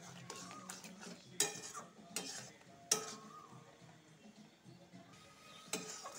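Ridge gourd fries in a pan with cumin and coriander paste along with onion and tomato, a low sizzle broken by sharp clinks and scrapes of a spoon stirring against the pan.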